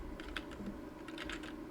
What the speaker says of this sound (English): Type in the following command